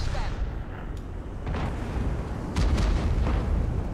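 A tank cannon fires in a tank-combat video game featuring a wheeled vehicle, the Concept No. 5. Booming shot impacts punctuate a rumbling low-end background, with a few sharp bursts spread across the moment.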